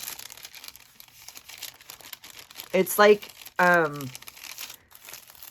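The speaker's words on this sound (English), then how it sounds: "this was like the paper, like, you know, on the bottom of your tray almost" Fast food tray liner paper being crinkled and crumpled close up in two short, crisp bursts, while a person speaks quietly before and around them.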